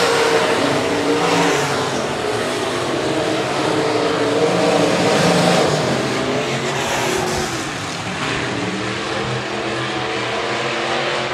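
B-Modified race cars roar around a dirt speedway on the final lap of a heat race, a dense continuous engine drone from several cars at once, loud and sustained, rising and easing slightly as they pass.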